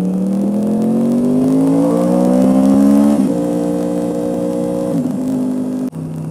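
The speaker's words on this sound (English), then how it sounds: "Oh, got an R1 right there. I think that's I want to say that's the M4 exhaust he's got." A Yamaha R1 sport motorcycle fitted with an M4 exhaust revs loudly and close by, its engine pitch climbing steadily for several seconds, then dropping and holding at a lower idle-like drone with a brief dip near the end.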